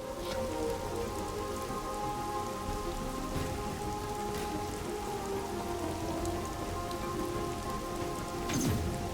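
Steady rain in Stranger of Paradise: Final Fantasy Origin patters densely on surfaces as a constant hiss, with a few sharper drips and a low rumble near the end, with no voices.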